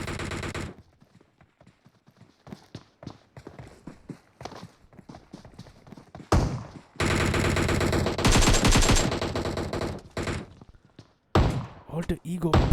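Rapid gunfire bursts from the mobile battle-royale game PUBG Mobile, including a pump shotgun shot during a custom-room match, loud clustered blasts broken by quieter gaps with a commentator talking over them.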